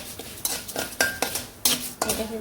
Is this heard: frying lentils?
yes